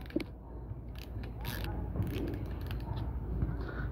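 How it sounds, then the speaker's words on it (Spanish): Fishing reel drag being loosened while spooling line, a close ratcheting creak of clicks and gear turning over a continuous low background rumble. "aflojas todo el freno"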